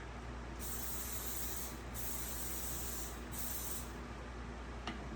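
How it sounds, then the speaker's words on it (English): Release spray hissing out of an aerosol can into foam clay cookie impression molds, three long steady bursts with short pauses between them. "I'm going to spray this one"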